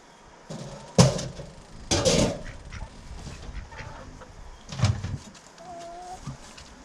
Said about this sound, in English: The chickens get trapped because they love being nosy, checking things out.